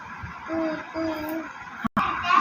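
A voice imitates a cuckoo call with two short, tuneful hoots in a row, followed by a brief pause and a faint murmur.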